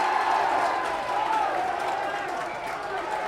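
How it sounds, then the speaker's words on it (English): Crowd noise at a rugby union junior cup final in Ireland, a steady broad roar of spectators building and cheering throughout, with a commentator's voice running over it. "Crowd getting into it, as you can hear."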